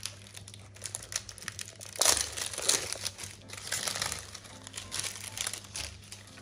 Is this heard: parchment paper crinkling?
yes